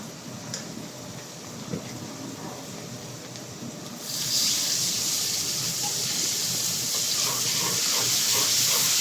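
Turmeric, salt and ground spice paste hitting a hot cooking pan, with a sudden loud hiss and sizzle that starts partway through after quieter kitchen sounds and stays steady to the end.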